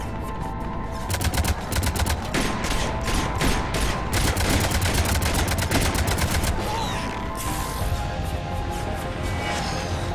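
Rapid cannon fire in the video game Mass Effect 3 during an assault on Omega, a dense continuous barrage of repeated blasts over a loud rumbling battle backdrop.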